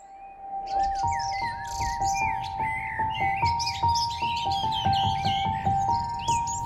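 A great black hawk calls in the Pantanal wetlands, a steady run of bright chirps and squawks repeating over a sustained tonal drone, close and fairly loud with no voices.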